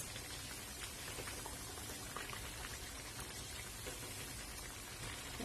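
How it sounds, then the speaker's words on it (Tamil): Cassava vadas frying in oil over a medium flame: a dense, even crackle and bubbling sizzle that runs steadily without pause, moderately quiet and close, with no voices. "அது வரைக்கும் நம்ம வந்துட்டு மீடியம் ஃப்ளேம்ல வச்சுட்டு ஃப்ரை பண்ணிக்க போறோம்"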